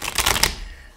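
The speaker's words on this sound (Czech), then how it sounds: "Já si tady teď míchám karty" Tarot cards riffle in a quick, close burst of crisp fluttering clicks lasting about half a second, then fade into quiet room tone.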